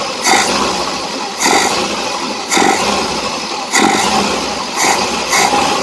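A Suzuki Carry engine revs repeatedly during a carburetor accelerator pump test, about five sharp throttle blips rising above a rough idle at regular intervals, loud and close, without talking.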